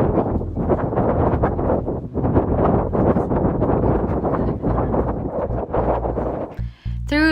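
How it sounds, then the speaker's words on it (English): Strong wind at the Statue of Liberty buffeting the microphone, a continuous loud, gusting roar with rumbling surges that drops out at the end. "I was getting the Marilyn Monroe vibes with this wind"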